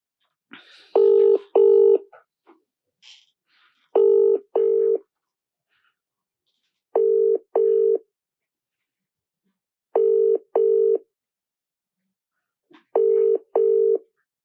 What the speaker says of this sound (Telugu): సో మనకి ఫోన్ రింగ్ అవుతుంది కానీ అన్వేష్ ఒకసారి బిజీగా ఉన్నారనుకుంటా.